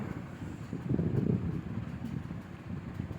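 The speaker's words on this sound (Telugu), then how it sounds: "గాలి పంటలపై అలలు లేపుతూ ఉంది" Steady outdoor wind blowing over crop fields, rumbling and buffeting the microphone, with a low continuous rush that swells briefly in the middle.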